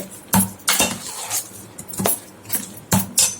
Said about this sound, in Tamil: இதில் ஒரு ரெண்டு கரண்டி பாசி பருப்பு போட்டுக்கலாம் இது நல்லா மிக்ஸ் பண்ணிக்கலாம்